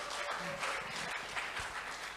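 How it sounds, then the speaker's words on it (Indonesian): Steady applause from a crowd of university students in Makassar, dense clapping filling the whole moment without pause, fairly loud and even. "Berikan tepuk tangan dulu untuk mahasiswa"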